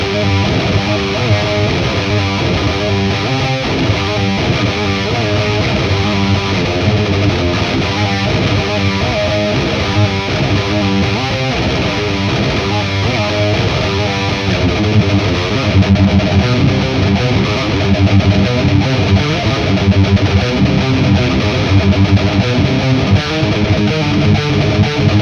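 Electric guitar played through the VHT amplifier module of a Synergy system, giving a distorted, saturated tone with a slight effects shimmer, loud and steady across a continuous riffing passage with no talking.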